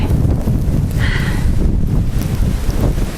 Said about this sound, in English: Oh, those gusts are getting bad.